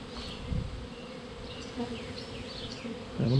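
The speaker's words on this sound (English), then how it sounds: "Good bit of bees on that." A swarm of bees hums steadily around a bee tree outdoors, a soft continuous drone with individual insects zipping closer and away, and a few low bumps from handling.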